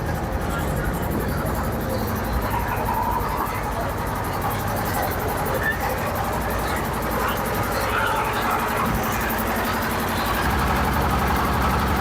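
A trawler boat's engine drones on the Buriganga river, a steady low idle-like rumble running throughout at moderate distance with faint background activity and no clear speech.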